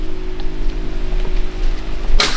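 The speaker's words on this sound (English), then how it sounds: "It's raining." Steady rain falls around a porch on a sloped building lot, a continuous close hiss of drops with a brief louder splash or patter near the end.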